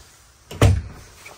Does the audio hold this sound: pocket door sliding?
yes